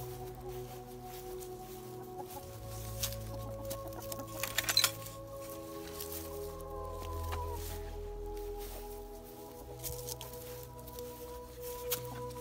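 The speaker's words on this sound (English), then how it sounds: "Somehow there's a chicken on the wrong side of the fence." A chicken clucks near a fence, with short choppy clucks scattered through the stretch, over a constant low hum and steady tonal background.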